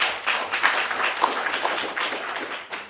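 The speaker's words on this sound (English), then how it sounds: "Let's give them a round of applause once again." Audience applause for a commission at a conference plenary session, a moderate, fairly steady patter of many hands clapping in a large room for about three seconds, with no speech over it.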